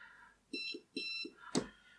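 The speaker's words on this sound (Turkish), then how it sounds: "Ve buzzer'dan da bir ses geliyor." An electronic buzzer on a Keyestudio UNO Max development board gives short beeping tones in two quick bursts, followed by a brief click, fairly quiet and close.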